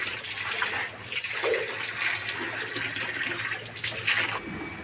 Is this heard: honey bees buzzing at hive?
no